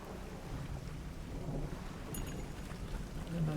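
A thunderstorm in Dredge brings dense, steady rain and deep rumbling, with a brief crackle partway through and a swelling roll of thunder at the close.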